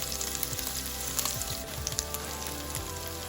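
Garlic pieces and a little ginger fry in homemade butter with a splash of oil for pav bhaji, a loud, dense, continuous sizzle with small pops throughout.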